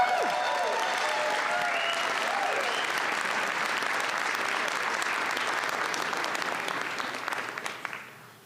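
An audience claps steadily for a mariachi band at an evening documentary screening and panel, a dense, even wash of applause that holds for several seconds before thinning and fading out near the end.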